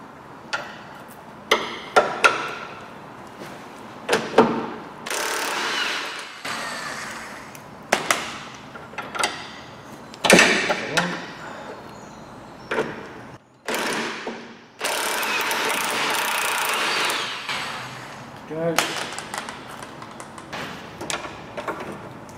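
Ratcheting spanner clicks and metallic clanks as the two 18mm bolts on the bottom ball joint of a Renault Clio 172 Sport are undone, in irregular close bursts of rapid ratchet ticks with knocks between them.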